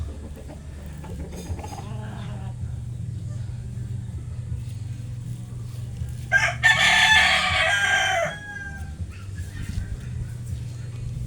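A white hatch gamefowl rooster crows once, loud and close, in a bright strained call lasting about two seconds, set against a low steady hum with faint clucking around it.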